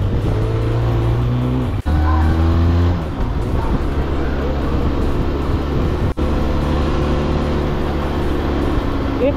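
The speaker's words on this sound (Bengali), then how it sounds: "একটু না সামনে থেকে নয়েজ আসছে টায়ারের" Riding on a TVS TRK motorcycle fitted with a new light block-pattern front tyre, a loud steady road roar and whine of tyre and engine fill the clip, with a brief dropout twice.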